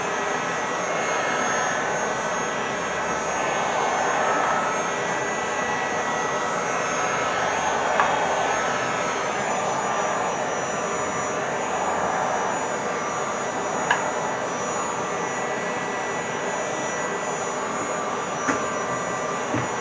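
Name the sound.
heat gun blowing on sound deadening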